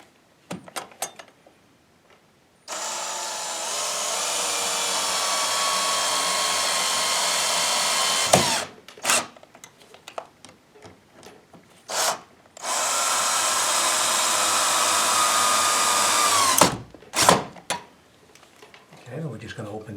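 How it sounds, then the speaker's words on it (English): A power drill whirs in two long, steady bursts of several seconds each while tightening window blind mounting brackets, separated and followed by short clicks and handling knocks. "We can tighten it up with our drill."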